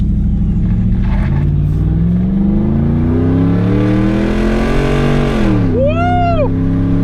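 A Ford F-150 with a Coyote V8 and muffler delete revs hard, its loud raw exhaust note climbing steadily in pitch, then dropping, followed by a brief whoop of a voice.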